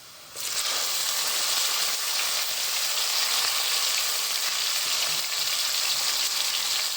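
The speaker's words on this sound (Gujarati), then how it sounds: "હવે સૂકેલી ડુંગળી, લીલી ડુંગળી ને ટમેટું" Dried onion, green onion and tomato hit hot oil and burst into a loud, steady sizzle that holds for several seconds, close and continuous, with no talking.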